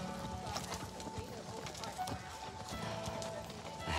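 Hooves of a horse on a trail ride in the Dandenong Ranges clip-clop in an irregular, quiet rhythm, close by but faint, with faint ambient sounds around them.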